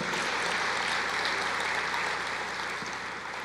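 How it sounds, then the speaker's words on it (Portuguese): A church congregation applauds in dense, continuous clapping that stays loud and even throughout, fading only slightly at the end. "Pode aplaudir o Senhor."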